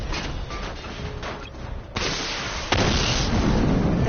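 A missile barrage firing in Batman Arkham Knight produces a continuous, dense rumbling roar that jumps louder in two abrupt steps and stays heavy and steady, with no voices.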